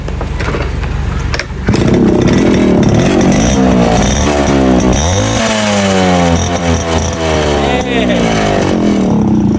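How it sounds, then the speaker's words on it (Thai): A motorcycle engine fitted with a new exhaust pipe revs loudly and close, its pitch climbing and falling in repeated throttle blips, with voices audible underneath. "นี่ร้อยแล้วนะผมใส่ท่อแล้วนี่ก็สวยงามเลยนะผมเดี๋ยวเราลองตัดดูฟังเสียง"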